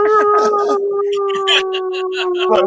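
A dog howls in a long, sustained, wavering cry that holds steady for nearly the whole stretch, close and loud, with people talking over it.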